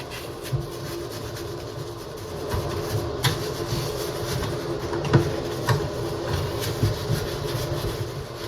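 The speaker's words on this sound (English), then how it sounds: "So I'll do the SOS pad again with a steel wool pad." Steady, harsh scrubbing of a bathroom faucet with a steel wool pad, a gritty rasp broken by sharp clicks and knocks at irregular intervals, close to the microphone.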